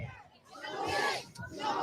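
Crowd of Metro State supporters outdoors cheering and shouting for student protesters marching to the Minnesota Capitol in Saint Paul, a sustained loud swell of voices with brief dips between bursts.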